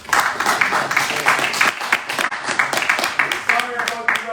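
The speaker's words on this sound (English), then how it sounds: "Can we give another round of applause?" A lecture audience applauds a visiting speaker with scattered, crisp claps running under a man's continuous speech throughout.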